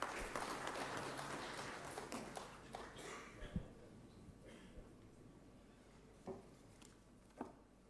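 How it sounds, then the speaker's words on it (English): Audience applause at a foundation day function, a dense patter of clapping that gradually thins out to a few scattered claps, moderately distant in a hall. "Kindly give him a big round of applause."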